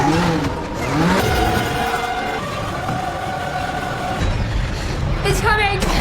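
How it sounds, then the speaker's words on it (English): A car speeds away during a tense chase scene in a horror film set in a cursed apartment's parking area, its engine revving steadily under dramatic score and voices throughout. "They rush to the parking area and try to escape using a car"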